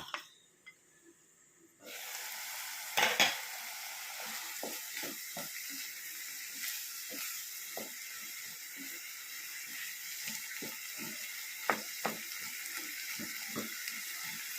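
Dried jackfruit seeds frying in a pan while being stirred, giving repeated scraping and rattling strokes over a steady hiss after a brief quiet start, with one louder clatter.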